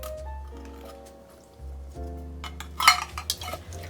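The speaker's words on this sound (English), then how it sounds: "I'm just going to give this a good stir to combine all of our pizza ingredients" Pizza casserole ingredients, including sliced black olives, get stirred together in a bowl: a spoon clinks and scrapes against the dish, then turns into louder wet squelching and clattering toward the end over a low steady hum.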